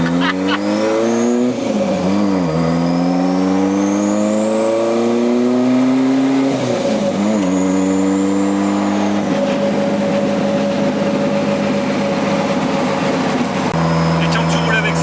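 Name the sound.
Renault 5 Turbo replica engine revving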